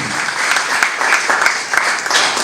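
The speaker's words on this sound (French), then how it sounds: "On l'applaudit fortement pendant qu'elle sera en train d'avancer ici devant." Loud, dense audience applause at a fashion week conference debate, continuous clapping from a large crowd filling the whole stretch.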